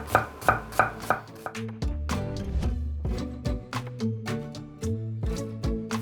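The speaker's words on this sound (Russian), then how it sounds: "перейдем к нарезке лука" A knife chops an onion into half rings steadily on a cutting board, crisp rhythmic strikes close by, with a few brief pauses between runs of slicing.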